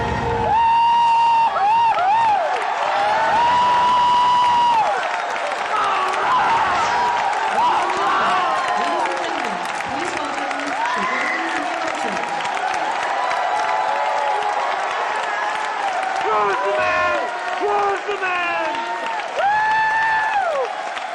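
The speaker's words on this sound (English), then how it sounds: "When Miyamoto appears at the end, brandishing the sword and shield, the crowd just goes wild once again" An E3 crowd erupts in wild cheering and applause as Miyamoto appears brandishing a sword and shield, with loud sustained clapping, whoops and shouting throughout and voices calling out over the roar.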